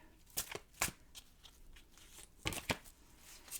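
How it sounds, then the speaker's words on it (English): A deck of angel oracle cards being shuffled in a few quick riffling bursts, close up, with quieter handling sounds in between. "I'm going to shuffle and deal you an angel oracle card."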